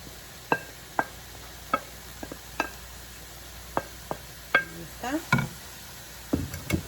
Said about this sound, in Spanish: vamos a empezar a poner ya nuestra carne